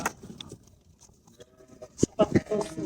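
A three-month-old female lamb bleats on a farm in a few short, fairly close calls near the end, amid scattered voices and faint background farm noise.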